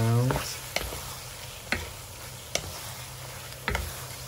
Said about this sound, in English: Mix the garlic